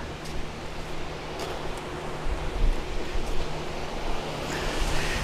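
Water turned on outdoors at a fish pond or tank setup runs as a steady broadband rush, continuous and fairly close, swelling slightly midway with no voices.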